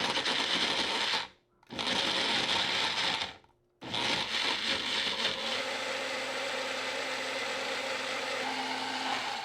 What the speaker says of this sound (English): Let's give it a good blend until super smooth.